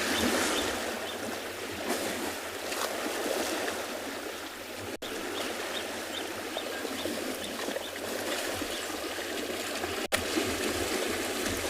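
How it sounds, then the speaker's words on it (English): Elephants swimming and splashing in a dam on an evening safari, a continuous rush of sloshing, churning water with scattered splashes, heard from a short distance with no speech. "You can hear all the splashing going on."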